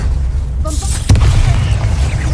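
A Confringo blasting spell goes off in Hogwarts Legacy, a single sharp burst about a second in that leaves a broad, rumbling tail. Faint crackles come before it over a steady low game rumble.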